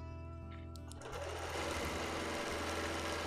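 A quilting sewing machine stitches a Quilt of Valor in free-motion work, its steady close hum running continuously with a rapid needle chatter that grows slightly louder after the first second.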